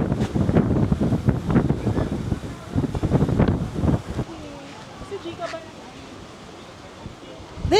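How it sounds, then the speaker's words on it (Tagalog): Strong wind buffets the microphone at An Bang Beach, gusting in heavy bursts for the first few seconds, then easing to a lighter rush with faint surf beneath and someone talking. "Ang hangin."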